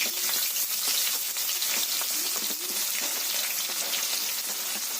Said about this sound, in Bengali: তেল কিন্তু গরম হয়ে গেছে এবার এর মধ্যে পেঁয়াজগুলোকে দিয়ে দিতে হবে বেরেস্তা করার জন্য